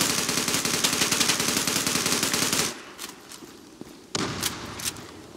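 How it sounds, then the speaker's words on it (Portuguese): Rapid automatic gunfire from the shooter game Zula rattles loudly for nearly three seconds, then breaks off into quieter scattered shots, footsteps and thuds. "Sei que aparece gente aqui, por isso que eu já tô atirando."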